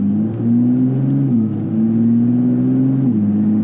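A Nissan Z NISMO street-legal race car drives slowly in Sport Plus mode, its engine droning steadily and loudly from inside the cabin. The pitch rises gently and dips at a couple of smooth gear shifts, with no talk.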